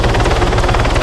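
Helicopter in the Arma 3 video game, a loud close rotor chop with steady rapid thumping over engine whine, running throughout with no pauses.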